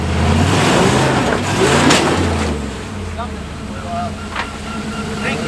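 A Jeep engine revs hard with heavy throttle while climbing an undercut rock ledge off-road, loud and close at first, then easing off to a lower rumble with scattered scraping sounds.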